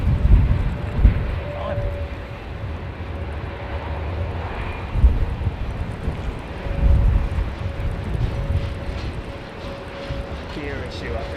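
A Boeing Dreamliner with a gear problem departs runway 09, its engine roar rising and falling amid gusty wind buffeting, while people talk over it.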